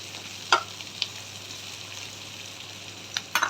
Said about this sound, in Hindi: तो ये थोड़ा हो रहा है सॉटे